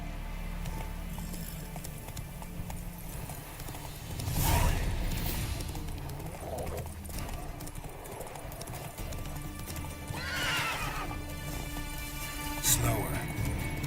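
Roach, the horse in The Witcher 3, gallops with steady hoofbeats and whinnies now and then over ambient game noise, and a voice speaks at times.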